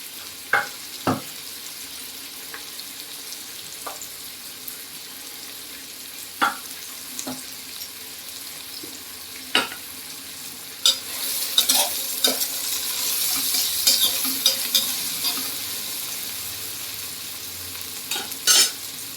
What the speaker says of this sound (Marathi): टोमॅटो पण आपण इथे छान परतून घ्यायचे.